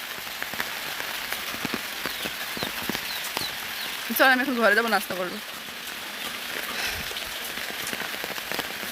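Heavy, wind-driven rain that has fallen for two days pours steadily onto surfaces, a dense continuous patter close around; a person speaks briefly midway over it.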